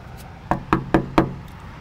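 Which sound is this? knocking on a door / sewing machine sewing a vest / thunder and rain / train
knocking on a door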